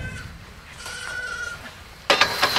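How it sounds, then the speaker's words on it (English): Goats wanting to be fed bleat at a farm during a horse show, a faint call early on followed by a louder, closer burst of bleating at the end over background noise. "the goats want to be fed"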